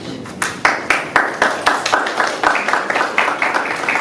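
At a public board meeting, a few people clap in a rhythmic, fairly close pattern of distinct claps for about four seconds.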